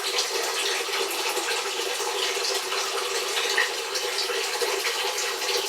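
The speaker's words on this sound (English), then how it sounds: "I'm going to run the hot water tap" A hot water tap runs in a steady, continuous rush of water, with a moderately close and even sound that does not change throughout.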